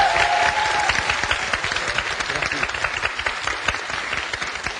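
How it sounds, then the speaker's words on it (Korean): A studio audience at a Korean talk show bursts into sustained applause, dense overlapping claps filling the room at moderate loudness, with a brief voice at the start. "이 이력만으로도 박수 한번 받아야 돼요"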